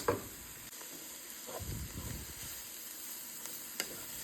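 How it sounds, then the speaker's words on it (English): Coleslaw sautéing in Asian oil in a pan, giving off a soft, steady sizzle and hiss with a few faint stirring clicks throughout. "Saute your coleslaw with a little bit of Asian oil."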